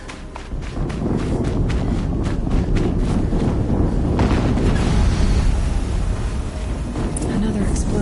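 A further blast erupts in a PS4 war game, a deep rumbling boom around the middle amid constant gusting, thudding battlefield noise and what sounds like game voices.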